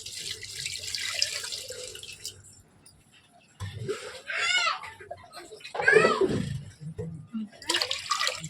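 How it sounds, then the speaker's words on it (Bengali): Water is poured into a pot of hand-mashed ridge gourd being readied for dal, a running, splashing pour in bursts with quiet gaps, plus some faint background voices. "এর মধ্যে এবার পানি ঢেলে দেবো"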